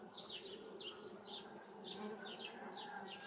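Honey bees buzz around a newly split hive, with a steady drone and many quick passing whines as individual bees fly close; the sound is faint and even.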